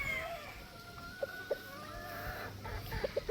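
Boston gamefowl rooster clucking in short, separate calls, a pair near the middle and a quick trio at the end, over a low outdoor background hum.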